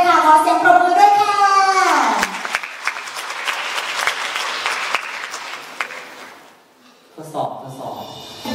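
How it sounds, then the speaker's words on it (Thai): Audience applause in a university theatre in Chaiyaphum before a stage performance: someone speaks first, then a dense burst of clapping fills several seconds, fades away, and talk resumes at the end. "ขอเสียงปรบมือด้วยค่ะ"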